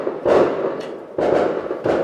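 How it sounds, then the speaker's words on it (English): Fireworks go off outside in a few separate muffled bursts, each a dull thump that fades quickly, spaced roughly a second apart with nobody talking. "you can enjoy the fireworks with me"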